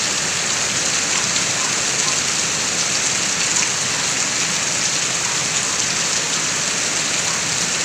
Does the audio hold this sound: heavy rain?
yes